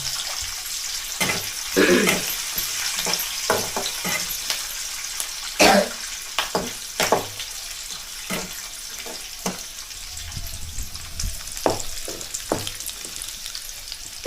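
Chopped onion fries in a pan with a continuous sizzle, broken by sharp scraping and stirring clatters and a wet hiss, close by, with a voice briefly heard.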